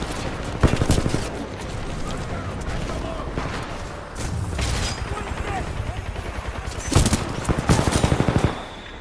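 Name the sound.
gunfire in Titanfall 2 video game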